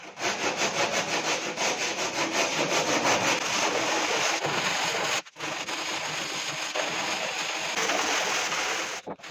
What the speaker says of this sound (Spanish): Ahora vamos a dar un poquito de lija, vamos a afinar las zonas